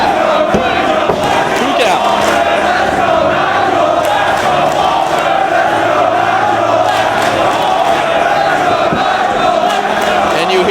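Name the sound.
wrestling crowd cheering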